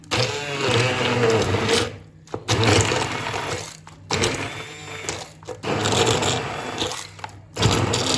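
A loud motorized whirring runs in bursts, cutting out briefly between runs, as a kitchen blender chops and liquefies fruit up close.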